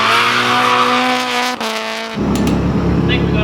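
Race car in a D1NZ Pro Sport drift run, engine roaring at steady high revs with a sustained tyre squeal, then a brief lift and a harsher, broader screech of shredding tyres, loud and close throughout.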